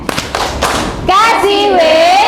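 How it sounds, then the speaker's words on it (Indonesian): Schoolchildren in a classroom clapping hands in a short rhythmic pattern, a few sharp claps close by, then children's voices chanting loudly over and after the claps. "Kita beri tepuk, wow keren."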